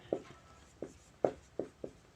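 Writing on a board, heard as five short, distinct strokes at uneven intervals, close and fairly faint in an otherwise quiet room.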